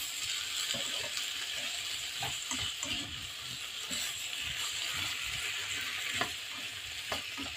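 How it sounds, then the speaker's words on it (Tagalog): Sayote and carrots sauté in tomato in a pan, a steady close sizzle with intermittent scraping stirs and light clinks, no talk. "Very simple cooking ng sayote with carrots. Ginisang sayote in tomato."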